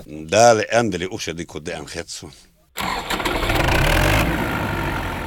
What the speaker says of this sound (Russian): За трактором бессменно тянется прицеп-сеялка.